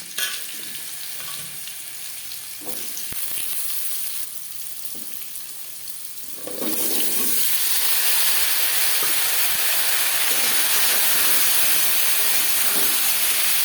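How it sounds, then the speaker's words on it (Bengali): Potatoes hit hot oil with cumin seeds and a bay leaf, a quieter sizzle suddenly swelling into a loud, steady hiss and crackle of frying that continues close up, with occasional stirring knocks. "পনেরো কুড়ি সেকেন্ড জিরে ও তেজপাতা ভেজে নেওয়ার পর দিয়ে দেবো আলু"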